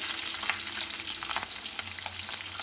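Chopped onion and green chillies fry in hot oil in a kadai with a continuous soft sizzle, punctuated by occasional stirring clinks close by. No one talks.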